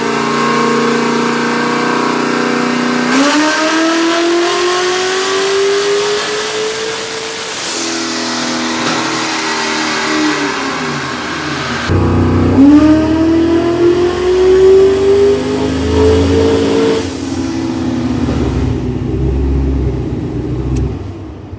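Turbocharged LS V8 on a dyno, revving in two long sustained pulls with rising pitch, loud and close with no talk, each pull ending in a sharp drop back to idle; the turbo is worn and losing power.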